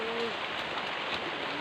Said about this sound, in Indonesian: Nah. hujan guys.